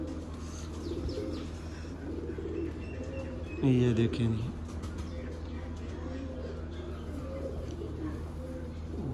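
Teddy pigeons give a short burst of low cooing close by, heard once amid faint background noise while someone talks.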